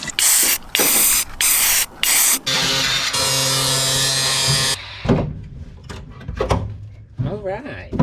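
Spray paint hisses from a can onto the shifter part of a 4x4 Ford van in several short close bursts and then one longer steady spray, followed by clattering handling noises and a voice speaking.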